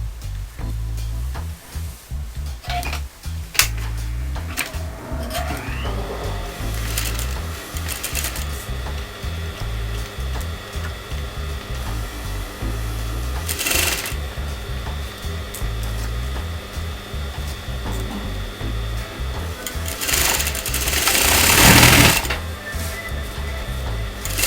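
A sewing machine stitches a kameez neckline in a long, steady run, its motor hum close and continuous, with a few brief pauses and handling clatters.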